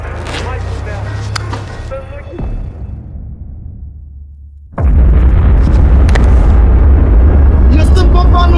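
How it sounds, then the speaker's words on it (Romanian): A nuclear bomb explosion sound effect: a deep, heavy boom bursts in after a quieter stretch with a voice, then rolls on as a loud, sustained low rumble. "Este bomba nucleară"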